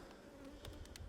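Honey bees buzz around the brood combs of a hive, a faint continuous drone with a few soft knocks and rustles over it.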